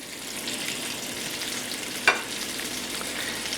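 Chicken pieces browning in a hot pan for chicken scarpariello give a steady soft sizzle and frying crackle, with one brief sharp clink of a utensil partway through.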